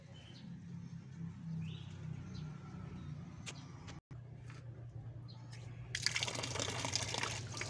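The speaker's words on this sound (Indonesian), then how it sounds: "Kita terus siram-siram kawan" Water poured over a potted sente (talas) plant, a steady liquid splash running throughout, growing brighter and louder near the end, with birds chirping faintly in the background.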